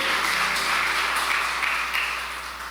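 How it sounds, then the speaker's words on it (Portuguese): Members of a church congregation applaud during a worship service, a dense, even wash of clapping that holds steadily and slowly fades toward the end. "E quem crê nisso aplaude ao Senhor."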